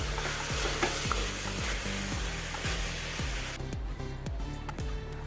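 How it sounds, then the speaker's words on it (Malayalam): Garam masala is stirred into paneer vegetable pulao sizzling in a pan, a close loud frying hiss with rhythmic scraping stir strokes, the hiss dropping back partway through while the stirring continues. "ഗരം മസാല ഇട്ട് ഒന്ന് ഇളക്കി കൊടുക്കാം"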